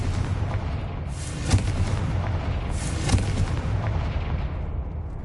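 Confringo fire spell explosions in Hogwarts Legacy: two distinct booming bursts about a second and a half apart over a steady rumbling background.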